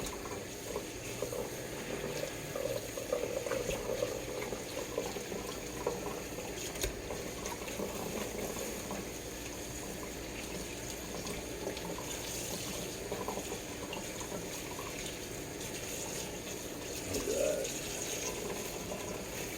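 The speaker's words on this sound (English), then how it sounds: "Maybe rinsing in cold water." Running tap water streams steadily at low volume with faint splashes and handling clatter, as raw chicken thighs are rinsed under the cold flow.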